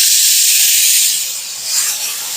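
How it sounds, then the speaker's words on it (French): Onions browning in a pan for boeuf bourguignon give off a steady, loud hiss of sizzling fat that dips briefly and swells again, with no voices over it. "on va faire dorer nos oignons"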